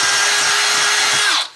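Power drill boring through metal on a Polaris RZR Turbo S, a loud close steady whine at high speed that winds down abruptly at the end, with no talk.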